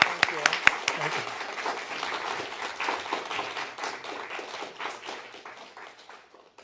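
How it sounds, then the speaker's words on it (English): Audience applause at a Constitution Day event on the Supreme Court, a dense wash of clapping with a few sharp close claps at the start, fading toward the end. Faint voices mix in underneath. "give our presenters a hand clap"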